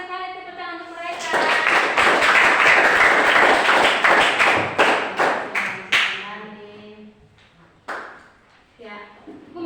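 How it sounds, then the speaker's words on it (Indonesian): Schoolchildren in a classroom applauding a group after a Pancasila lesson, a burst of loud, dense clapping that thins into scattered claps, with voices talking and calling out over and after it. "tepuk tangan untuk mereka"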